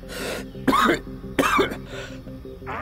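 A person breaks into a coughing fit, with several harsh, close coughs and throat-clearing bursts in quick succession over a quiet sustained musical backdrop.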